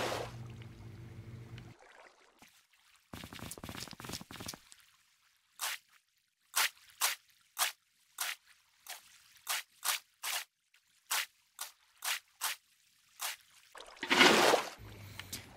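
Water sounds come from the video game Minecraft during a fountain build: a run of short, separate splashy drips and plops in an irregular rhythm, framed by longer watery swishes, with no talking.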